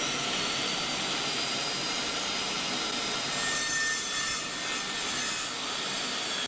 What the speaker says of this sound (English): let's grab the saw here and we'll cut this